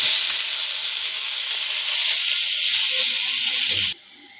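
Radish greens hit hot oil with dried chilli and nigella seeds, giving a steady bright sizzle and hiss that holds level, then cuts off abruptly near the end, leaving quieter background.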